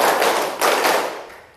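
Hands clap together in a classroom ice-breaking game: two loud, close, crisp claps about half a second apart, with no talking.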